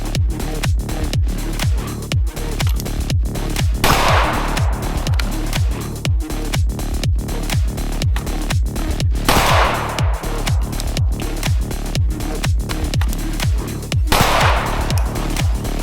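Rapid rifle fire from an LWRCi IC A5 10.5-inch carbine during speed and accuracy drills, loud sharp shots in quick evenly spaced strings, close and continuous through the stretch with no talking.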